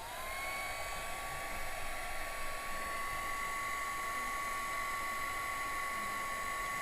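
Heat gun melting embossing powder at a craft table, a continuous close blowing whine with a steady tone, alone and unbroken.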